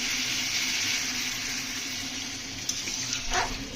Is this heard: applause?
no